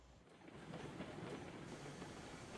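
A train rolls along the track in the Railroads Online video game, a steady low rumble with faint rhythmic clatter, heard at a quiet level with no voices.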